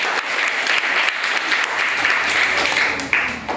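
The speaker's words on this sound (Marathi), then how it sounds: "अस्मितासाठी सगळ्यांनी टाळ्या वाजवायच्या" Students clap together for a classmate during a school quiz in a classroom, a brisk, dense burst of many hands lasting a few seconds and tapering off at the end.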